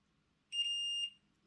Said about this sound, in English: touching this brush, we should have a beep